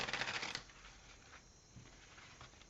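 Tarot cards are briefly riffled and shuffled with a quick papery flutter, then a few soft taps and slides on a cloth, quiet and close.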